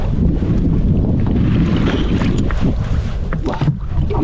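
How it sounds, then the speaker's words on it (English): Oar rowing a small boat through slimy water on a lake, with rough close splashing and sloshing under heavy wind buffeting the microphone, continuous and without talk. "I'm rowing this like a kayak."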